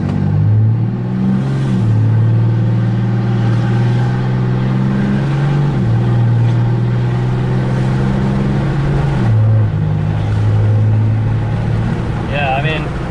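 Truck with a 68RFE automatic transmission and modified valve body accelerating on light throttle, a loud steady engine drone from inside the cab whose pitch climbs and drops at several gear shifts.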